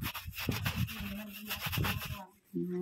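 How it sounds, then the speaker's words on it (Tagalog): Steady rubbing and scrubbing of a surface by hand, a rhythmic abrasive swishing that carries on for a couple of seconds before a short pause, with a faint tonal sound at the end. "Kailangan kuskusin ng maigi."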